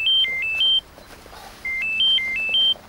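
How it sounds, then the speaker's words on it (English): Cartoon phone ringing with two bursts of a bright electronic melodic trill that hops between a few high notes, separated by a short pause and playing over a quiet background. "Just then, Simon's phone rang."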